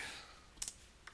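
A few quick computer keyboard clicks tap out a short word into a filter field, two or three crisp close keystrokes in an otherwise quiet room.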